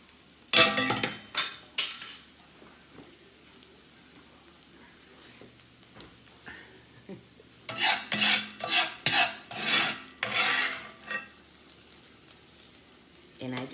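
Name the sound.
scooping cooked peppers and onions out of a pan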